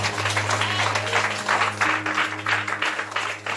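A church congregation claps in a steady, dense burst of applause throughout. The hall hum sits underneath, and a few faint voices are mixed in.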